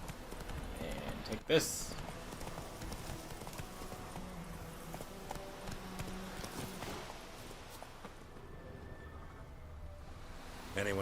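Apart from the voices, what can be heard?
horse galloping, clip-clop hooves in video game Witcher 3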